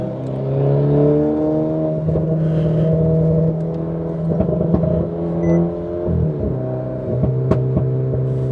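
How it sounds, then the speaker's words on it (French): Renault Clio 4 RS Cup with 200 hp and an Inoxcar exhaust on the Nürburgring, a loud steady engine drone with shifting pitch and scattered pops and crackles, heard from inside the car. "Attends, ta ligne, elle est incroyable. Ça pétarade de partout."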